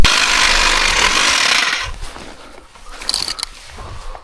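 A power tool cuts through cedar trees outdoors, a loud, dense buzzing that runs for a couple of seconds and then drops away into quieter rustling and a few brief knocks.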